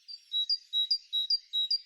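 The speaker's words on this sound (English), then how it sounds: "Sometimes a bird will repeat a phrase, like this recurring pattern of 2 notes called couplets." Garden bird song made of high, thin chirps in repeated two-note couplets, with the pairs coming at a regular pace. The bird sounds fairly faint and a little distant, with no talking.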